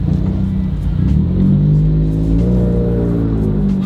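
A Subaru WRX with the FA20 engine and a CVT pulls away from a stop, its engine rumbling and revving steadily upward with a rising drone heard from inside the car.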